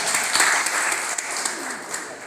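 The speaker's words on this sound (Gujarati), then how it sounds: "એમના નામની એક તાળી થઈ જાય." A live audience bursts into applause at a public speech event, many hands clapping in a dense, steady wash close by for a couple of seconds, with faint voices mixed underneath.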